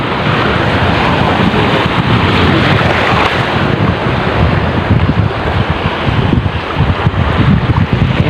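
Steady, loud easterly wind buffeting the microphone while fishing at sea, with surf and water noise churning underneath throughout, no voices.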